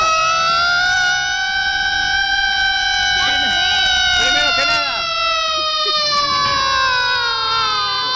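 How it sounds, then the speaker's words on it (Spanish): A comedic siren sound effect on a Spanish-language TV show called Bigote blares loud and steady with rising and wavering harmonic tones throughout, while people talk and laugh underneath. "La sirena bigotona está sonando"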